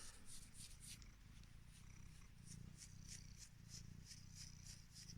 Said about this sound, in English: I don't know if you can hear her purring there